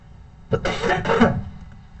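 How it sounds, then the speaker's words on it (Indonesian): A single person coughs twice, close by, a short harsh burst followed by a second rougher one, with no talking. "Maaf ya, saya agak batuk ini."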